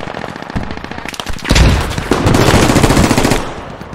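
Rapid automatic gunfire in the Squad military shooter, loud and close, with dense rattling bursts that swell into heavy sustained fire near a compound entrance.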